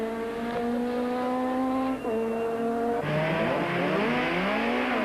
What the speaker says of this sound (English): Habich leaned on the tyres as he overdid it a little bit